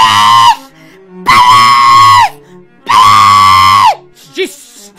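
A person screams loudly three times, each a long, high, strained wail separated by short pauses, followed by a brief rising vocal yelp.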